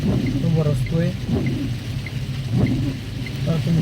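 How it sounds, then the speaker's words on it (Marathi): Heavy torrential monsoon rain pours as a steady, dense broadband hiss throughout, with a low rumble beneath, while a person talks over it. "अतिशय जोरदार मुसळधार जो पाऊस आहे"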